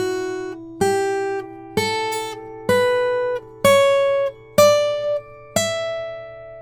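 Slide guitar plays a blues scale with flatted third and seventh, seven plucked notes climbing step by step, each ringing clearly and gliding slightly into pitch, alone and close with no talking.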